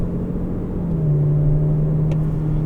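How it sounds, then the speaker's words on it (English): Engine of a 2020 Aston Martin DB11 AMR in Grand Touring mode, a loud, smooth low rumble from inside the car, with its tone rising steadily as the transmission shifts, no speech. "Normal Grand Touring, transmission shifts"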